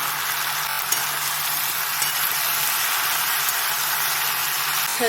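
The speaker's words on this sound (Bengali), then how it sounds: "শাকটা আলুটা ভালো করে ভেজে নেবো" Potatoes and leafy greens fry in a pan with a steady, loud broadband sizzle and occasional stirring scrapes, continuous with no talking.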